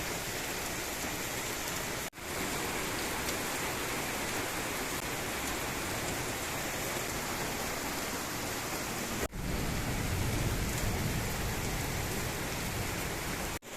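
Heavy monsoon rain pours steadily and loudly, a dense, unbroken hiss of downpour with brief cut-outs and no voices.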